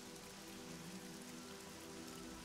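Steady rain falling on a surface, played as an ambient sound effect during a tabletop role-playing session, a constant close hiss of dense drops with no pauses.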